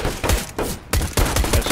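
Rapid bursts of gunfire in Counter-Strike on the Cache map, loud and close, with several sharp shots in quick succession and a brief gap before the firing resumes.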